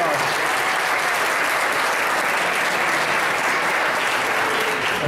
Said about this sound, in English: please stand up and let's give them a round of applause